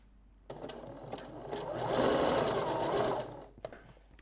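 A sewing machine stitches elastic binding onto fabric, its motor whirring up to a steady, close, fairly loud run of rapid needle strokes for about three seconds before stopping, with a few light clicks after.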